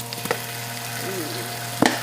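Minced garlic frying in a pan during Jamaican dinner cooking: a soft, low sizzle runs quietly beneath two sharp utensil clinks, one near the start and one near the end.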